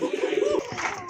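A large male gola pigeon gives a close, loud coo, a sustained throaty tone for about half a second followed by softer, fainter sounds.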